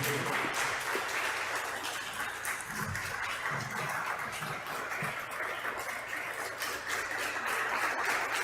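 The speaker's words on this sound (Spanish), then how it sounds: "Démosle un fuerte aplauso a nuestro Dios y Señor." A church congregation applauds loudly and steadily, the dense clapping filling the room for several seconds with a few voices faintly underneath.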